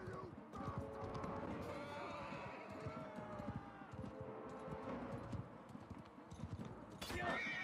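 Horse hooves pound and a horse whinnies amid a medieval battle in Mount and Blade 2: Bannerlord, with clashing combat noise throughout and someone talking over it.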